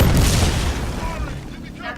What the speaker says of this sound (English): That's another explosion.